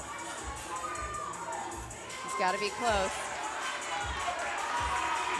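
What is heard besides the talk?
crowd cheering for an athlete's set at Burn Boot Camp games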